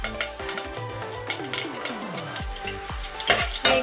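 Dried red chillies and curry leaves fry in hot oil with a lively crackling sizzle, broken by stirring scrapes and sharp metallic clinks of a spoon against the pan, fairly close and without talk.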